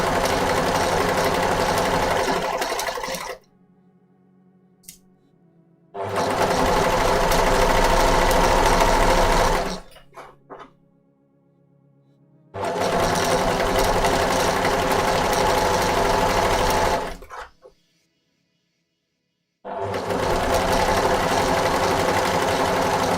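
A sewing machine stitching the long edge of an undershirt, running in three long steady motorized bursts of needle hum with quiet pauses between them, close and alone.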